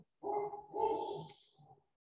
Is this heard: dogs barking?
yes